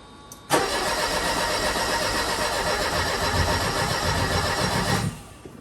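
A Mercedes 190E engine cranks and catches, roaring up abruptly and running rough and loud for several seconds before cutting off.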